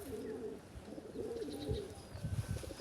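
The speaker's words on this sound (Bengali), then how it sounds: "এই যে আমার শখের কবুতর।" Domestic pet pigeons cooing in a rooftop loft, several soft rolling coos repeating at moderate distance over a low background hum, with faint chirps mixed in.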